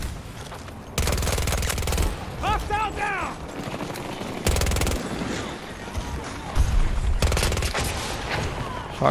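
Bursts of automatic gunfire in Battlefield 2042: several loud, dense volleys of rapid shots separated by quieter stretches, with in-game mechanical sounds and a voice talking between them.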